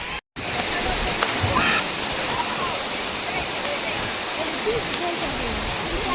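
The Tangankana waterfall pours in a loud, steady, broadband roar of falling water, close and unbroken after a brief dropout at the very start.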